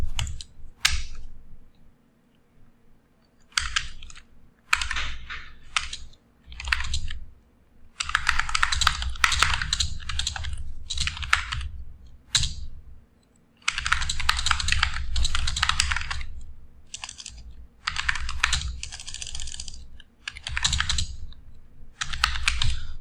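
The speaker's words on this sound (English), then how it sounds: "Okay, over here I'm just gonna type the name voltage repair." Rapid bursts of typing on a computer keyboard, crisp close key clicks in quick runs separated by short pauses, loud and alone without any voice.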